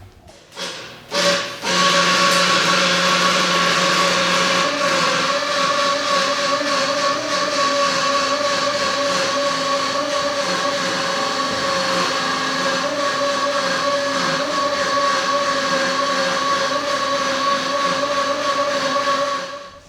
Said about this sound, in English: electric over hydraulic pump I got right here. It's off of one of our old dump trucks.